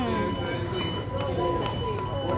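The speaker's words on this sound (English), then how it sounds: "We're getting a tram." Tram ride in Dubai: a steady rumble of the moving car with faint rail squeals and hum throughout, close and continuous, with people talking over it.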